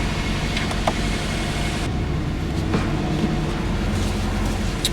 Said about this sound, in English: That's the sport exhaust.